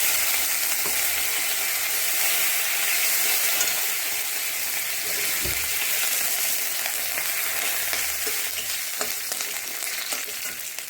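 Curry leaves sizzle in hot oil with mustard seeds and a pinch of asafoetida for a tempering, a steady loud frying hiss with small crackles and pops throughout.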